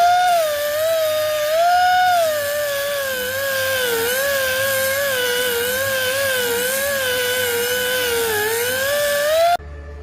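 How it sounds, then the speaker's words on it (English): A small flap disc on a power grinder strips paint off metal in a garage, a loud continuous whine whose pitch wavers slightly as pressure changes, running alone for about nine seconds before cutting off abruptly. "So I've got a little flap disc on here."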